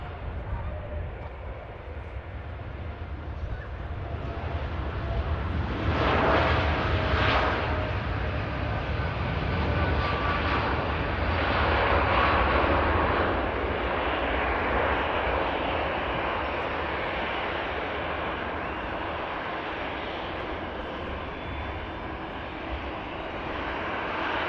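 An EasyJet airliner passes at Manchester Airport, its broad jet-engine roar swelling to a loud peak midway and then slowly fading while the rumble lingers; a voice speaks faintly in the background.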